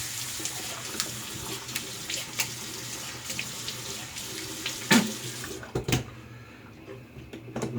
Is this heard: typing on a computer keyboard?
no